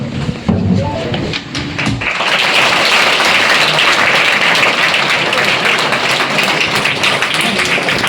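An audience at a park gathering in Kodaikanal breaks into loud, sustained clapping that swells after a brief spoken lead-in and holds steady as a dense wash of applause.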